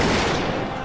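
Massed matchlock volleys in the battle strategy game Nobunaga's Ambition, a dense, steady rumble of overlapping distant shots with no break.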